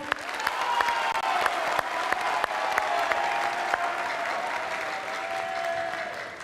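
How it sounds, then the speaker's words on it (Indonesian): Audience applause at a presidential candidates' debate, a full, even crowd clapping that carries on steadily for several seconds at moderate volume, with a few sharper claps standing out. "Boleh tepuk tangannya meriah?"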